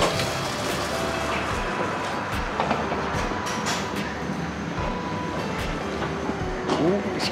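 A German commuter train pulls into a station with steady rolling rumble and rhythmic clickety-clack of wheels over rail joints, brief metallic squeals near the end, heard close by from the platform.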